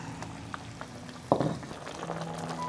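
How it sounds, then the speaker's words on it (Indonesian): Spices with lemongrass, galangal, kaffir lime leaves and bay leaves cooking in a pan for sambal goreng krecek, a steady low sizzle with a brief louder scrape of stirring midway. "Lalu kita aduk-aduk biar ini masak sampai si bumbunya matang"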